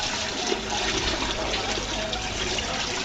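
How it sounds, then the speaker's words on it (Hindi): Water pours steadily into a pot of spiced trotters, two to three litres at a time, a close, continuous splashing gush with no pauses. "दो से 3 लीटर हमने इसमें पानी ऐड किया।"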